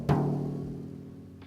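A single sharp tap on a tightly stretched screen-printing screen gives a drum-like boom that rings and slowly fades, followed by a faint brush near the end.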